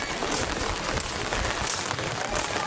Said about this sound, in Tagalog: Ayan guys, lumalakas na yung ulan